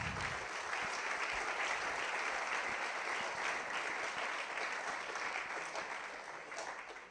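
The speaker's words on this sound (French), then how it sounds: "Et je vous invite à l'applaudir" Sustained applause from a crowd, steady and full for several seconds before tapering off slightly at the end.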